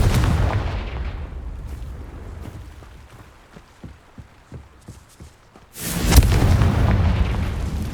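A Confringo fire spell in Hogwarts Legacy lands with a deep rumbling blast, followed by a quieter stretch of soft footsteps and small pops, then a second loud, sudden explosion that booms and rolls on. No talking is heard.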